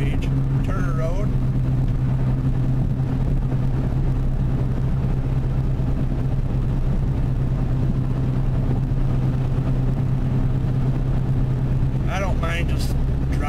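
Interior of a car cruising on the US-127 highway near Lansing, Michigan, at about 75 mph, with a steady loud engine and road drone throughout and someone talking over it.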